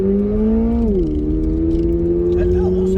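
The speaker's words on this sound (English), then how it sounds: "I don't like the off throttle sound." A 2022 Toyota GR86 Premium engine droning steadily from inside the cabin, its pitch dropping and settling as the throttle is lifted, with road and wind noise underneath.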